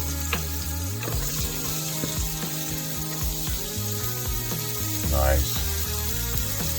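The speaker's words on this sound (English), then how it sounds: "let's get our onions in" Onions sizzle steadily in a hot pan, close up, with occasional clinks and stirring clatter and a single brief spoken word.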